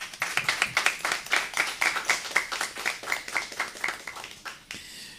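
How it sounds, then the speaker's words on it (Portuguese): At a forum, a small audience claps to welcome a speaker, with distinct, fairly quick individual hand claps forming a moderate rhythm before fading out. "uma salva de palmas"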